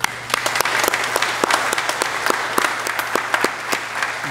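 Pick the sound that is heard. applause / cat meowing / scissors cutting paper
applause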